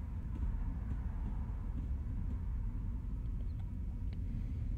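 An M7 train in Train Sim World on the Long Island Rail Road rolls along with a low, steady rumble throughout, faint and continuous with light clanks on top.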